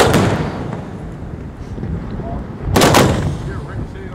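Fireworks at a country club and yacht club display boom loudly, with two sharp close bursts and a rumbling tail between them, and faint crowd voices underneath.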